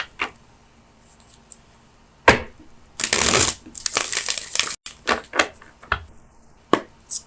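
Tarot cards are shuffled by hand in a dense, riffling burst lasting over a second, then several shorter taps and flicks as cards are handled and set down, close and fairly loud.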